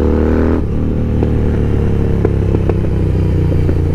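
A BMW 1250 GS motorcycle rides off close by, its loud engine droning and revving steadily with some mechanical clatter, no voices over it.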